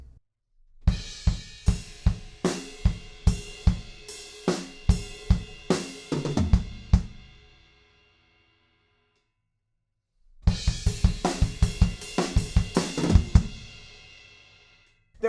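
A drum kit plays a fill of triplets on the toms with kick drum, loud and close: a run of sharp, evenly spaced hits ending in a crash, then a pause, then the fill played again.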